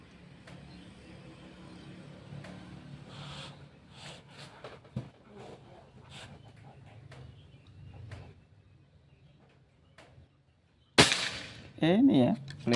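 A single sharp, loud shot from a PCP Bocap Pajero Gen 5 air rifle rings out near the end, after a long stretch of quiet handling noises and faint talk, followed by some brief rattling.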